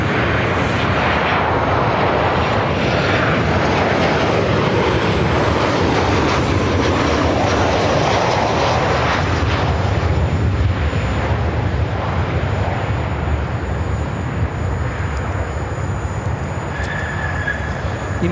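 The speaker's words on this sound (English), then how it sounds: "2375 coming in from Houston Intercontinental on a 737-800." A United Airlines Boeing 737-800 lands at Chicago O'Hare, its jet engines a loud, steady broadband roar that holds for the whole stretch, with a high whine settling lower and gusty wind buffeting throughout.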